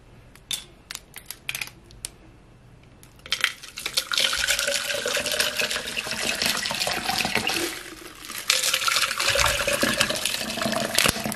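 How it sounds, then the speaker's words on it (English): Ice cold water is poured into a Starbucks cup, starting with a few small clinks and taps, then a continuous close splashing pour that briefly dips and comes back for a second stretch. "I got some ice cold water, so I'm just gonna pour that in"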